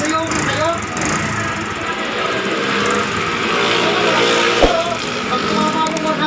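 A Honda Wave Dash motorcycle engine runs steadily right after a primary clutch lining replacement, a constant mechanical drone close by with a brief sharp knock partway through, while someone talks over it.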